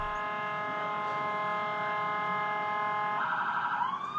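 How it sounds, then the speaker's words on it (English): An ambulance sounds its rumbler siren in traffic, a loud steady wail with layered tones that shifts pitch near the end, continuous and close with no talk over it. "He's literally blaring the rumbler siren and no one is doing anything about it."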